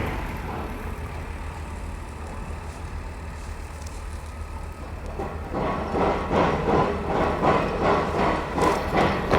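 Heavy pile-drilling machinery at a Laos-China railway bridge construction site drones steadily, then a rhythmic pounding starts about halfway through and repeats until the end.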